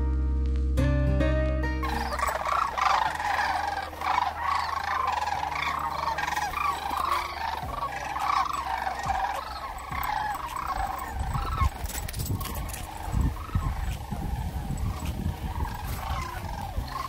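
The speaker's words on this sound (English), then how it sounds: "There's more. Sandhill cranes." Sandhill cranes call outdoors at an RV boondocking site, their rolling, rattling bugles repeating steadily in a continuous chorus at moderate distance, after a brief loud thump at the start and with low rumbling noise later.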